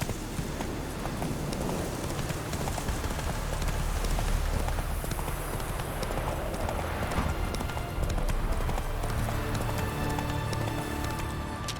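Roach, a horse in The Witcher 3, gallops with a continuous rhythmic clip-clop of hooves, loud and close, running steadily under a dense ambient wash.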